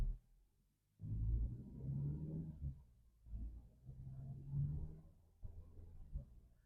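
A Ford Focus with a Powershift transmission accelerating from a stop and shifting from first into second, with a low engine rumble that rises, dips briefly at the gear change and rises again, heard from inside the car with no talk.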